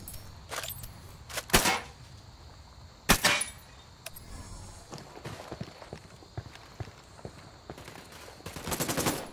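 Scattered gunfire in Ghost Recon Wildlands cracks out as bursts of sharp shots at irregular intervals. Some reports land close and loud, others fall fainter, with clattering sounds between them and a thicker volley near the end.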